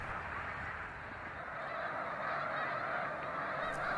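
A large flock of greater snow geese on a Saint-Laurent estuary staging ground near Lac-Saint-Pierre, Québec, honking steadily in a dense continuous chorus that holds at the same level throughout, with no voices over it.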